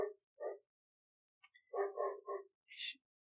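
A dog barks in a short burst of several yips and barks at close range, ending with a higher whimpering yelp, heard during a solo podcast recording in a quiet room.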